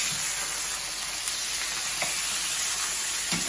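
Chicken sizzling loudly and steadily in a hot pan just after being flipped, a dense close-up frying hiss with a few faint pops, no voices.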